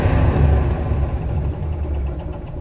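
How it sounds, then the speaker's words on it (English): A cold-started truck engine, a 1973 Dodge W200 or 2001 Ford F250, rumbles steadily up close with deep low-end throb, holding a raised, slightly uneven rev before easing back toward idle. "Oh yeah, she's running. Now I'm gonna give her some throttle."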